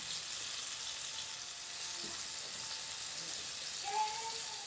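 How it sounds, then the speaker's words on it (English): Chicken pieces frying in hot oil for Jamaican bar-be-fry chicken, a steady soft hiss and crackle of sizzling, fairly quiet and continuous with no talking. "if you're frying your chicken"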